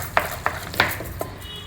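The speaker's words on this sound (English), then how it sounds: "We will add the cardamom powder and mix it well." Sakkara Pongal being stirred with cardamom powder, a spoon clinking against the pot in five or six quick, irregular taps over a soft background.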